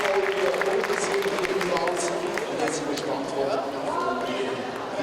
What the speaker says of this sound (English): A round of applause from the crowd. Big cheer.